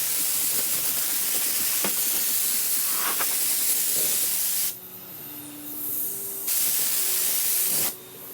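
A Snap-on DA sander with 80 grit strips original paint from a car panel, giving a close, steady broadband hiss that drops back twice as the sander lightens or lifts off, then returns.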